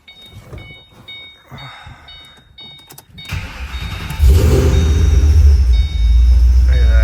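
A 2008 Shelby GT500 V8 cranks and fires up around midway, then settles into a loud, deep, steady idle after some quieter rattling and mechanical noises beforehand.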